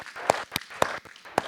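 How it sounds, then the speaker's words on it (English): A handful of sparse, separate hand claps, about four sharp slaps spaced unevenly and fairly quiet, greet a team at an educators' development day session. "Round of applause for our team here."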